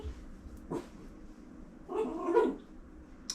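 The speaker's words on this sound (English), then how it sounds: "can you hear the other doggy now?" A small dog gives a couple of short yips or barks, one brief and a louder burst a second later, fairly close with quiet room noise between.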